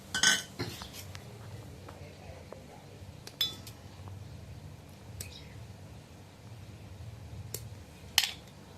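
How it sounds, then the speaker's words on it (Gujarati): Cashews and almonds being cut into small pieces in a kitchen, with scattered sharp clicks and clinks of a blade and utensils spread across the stretch over a low steady background hum, close by and fairly quiet. "ત્યાં સુધીમાં આપણે કાજુ બદામ કટિંગ કરી લઈએ."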